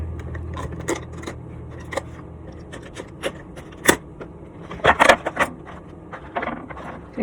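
Scissors snip and scrape through cardboard doll packaging during a Monster High toy unboxing, giving a run of irregular crisp clicks and rasping cuts, close up, with a few louder snaps near the middle.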